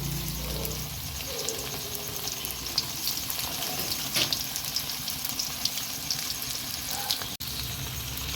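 Small fish pieces fry in a shallow layer of hot oil on a stove, a steady close sizzle and crackle running throughout with occasional sharper pops.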